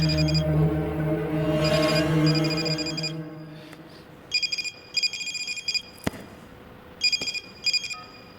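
A telephone ringing in a Bollywood hijack thriller scene, repeated electronic ring bursts in a steady rhythm following a tense sustained music swell, close and clear with no voices.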